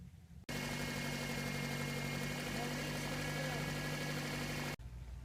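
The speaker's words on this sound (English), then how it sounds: "now we'll turn the engine on and just double check to make sure there's no leaks" A 2006 Toyota Matrix engine runs at a steady idle, a loud, constant drone that starts abruptly and cuts off near the end.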